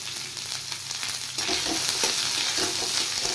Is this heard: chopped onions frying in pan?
yes